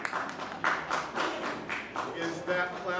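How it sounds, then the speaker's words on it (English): Audience applause at a church Indaba meeting with a bishop, a steady patter of many hands clapping at moderate volume for a few seconds, with no voices over it. "Is that clapping for fewer resources?"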